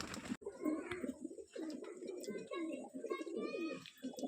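Cooing pigeons at a loft selling Rampuri golden, kaldoma and moyna jack breeds in Baruipur, Kolkata, a steady murmur of soft coos through most of the clip, close and continuous.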